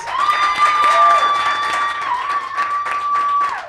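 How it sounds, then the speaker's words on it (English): Audience applause and cheering greet a singer walking onto a stage at a live performance, a dense, steady wash of clapping for nearly four seconds with sustained tones running underneath. "Please give a massive round of applause as he walks onto stage."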